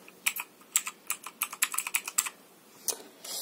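Typing on a Motospeed CK61 mechanical keyboard: a quick run of crisp, close key clicks in an uneven rhythm, with a short pause before a final burst of keystrokes and no voices.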